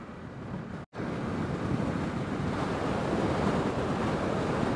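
Strong wind roars across the microphone while riding a Honda CRF 300 Rally motorcycle on a mountain pass, loud and continuous, with a single brief dropout near the start.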